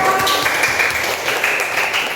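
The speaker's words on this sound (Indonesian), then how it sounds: "Pasti tepuk tangan untuk kelompok 3." A classroom of students claps for group 3 in a short, loud, dense burst of applause that carries steadily through the whole moment with no talking over it.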